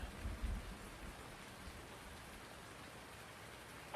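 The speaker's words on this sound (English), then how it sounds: "When is this rain going to stop?" Soft, steady rainfall in the video game Farming Simulator 19 patters in a continuous hiss, faint and even, with a brief low rumble at the start.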